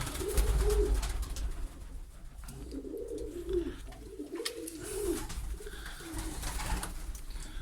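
Pigeons coo in low, rolling phrases inside a closed loft, several birds overlapping at close range against a steady low hum and faint rustling.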